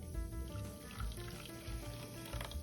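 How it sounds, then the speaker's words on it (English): Squirt soda, a 12-ounce can, is poured into a pan for making candied yams, giving a steady fizzing, bubbly wash that continues throughout with no talking. "In a pan, we need 12 ounces of squirt."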